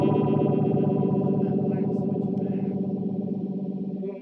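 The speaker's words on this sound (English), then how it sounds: "So in messing with the phase shifter, it sounds like this." An Electra MPC electric guitar plays through its built-in phase shifter, giving a loud, sustained distorted chord with a sweeping, swirling phase modulation that slowly decays, heard alone.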